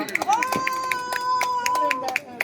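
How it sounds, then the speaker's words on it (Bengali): An audience claps in a quick, steady rhythm along with an 80-year-old grandmother's song, sharp near claps repeating over a sustained tonal voice, with talk also present. "এই গানের জন্য একটু সবাই মিলে একটু জোরে হাততালি দিন"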